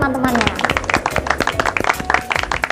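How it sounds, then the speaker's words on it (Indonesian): A small classroom group claps for classmates in a quick, uneven patter of close hand claps, with a voice briefly audible at the start. "Ayo berikan tepuk tangan ke teman-temannya"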